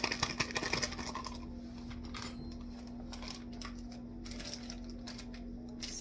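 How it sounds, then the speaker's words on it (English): A mixer creams one stick of butter for red velvet cake frosting, giving a steady motor hum under busy rattling clicks that are loudest in the first second and then settle into an even whir. "For the frosting, I'm creaming 1 stick of butter."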